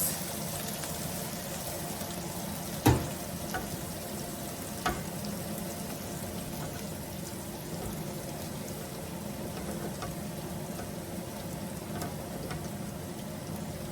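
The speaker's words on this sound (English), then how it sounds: "I'm going to be adding the beans now. Reduce the heat." Beans frying in sauce in a pan over reduced heat, a steady soft sizzle and bubbling crackle with a couple of sharp clinks from a utensil, no talking.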